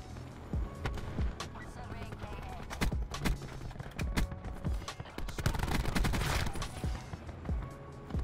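Dense, overlapping gunfire from a sniper's nest in Call of Duty Black Ops 4, with sharp repeated shots and bursts crackling steadily throughout the match.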